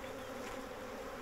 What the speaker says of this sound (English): you can shake those bees off like so